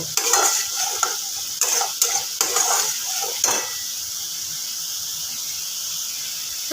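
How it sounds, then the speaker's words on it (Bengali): Masala paste frying in oil with garam masala for a katla fish kalia, brisk scraping stirs and sizzling in the first half with a high squeal, then settling into a quieter steady hiss. "আমি মশলাটাকে একদম তেল ছাড়া অবধি কষিয়ে নেব"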